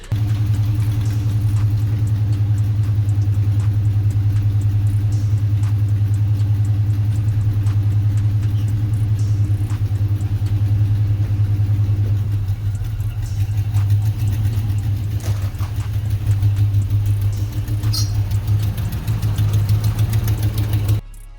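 A car engine, its exhaust leaking, idles steadily while warming up, a loud, constant low rumble that runs unchanged for about twenty seconds, with faint clatter and shifting noise near the end and no talk.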